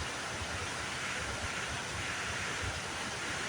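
Rushing water spilling over the top of a beaver dam into the pool below, a steady broadband roar that stays even and continuous throughout.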